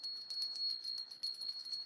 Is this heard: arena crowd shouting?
no